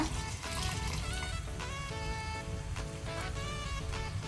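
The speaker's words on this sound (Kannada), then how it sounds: "ಈಗ ಸ್ವಲ್ಪ ನಾನು ನೀರು ಹಾಕ್ಕೊಳ್ತೇನೆ ಚಿಕನ್ ಬೇಯಲಿಕ್ಕೆ ಅಂತ" Water is poured into a pressure cooker of chicken pulao with fried tomato, giving a continuous close splashing, trickling pour with some faint clinks over its few seconds.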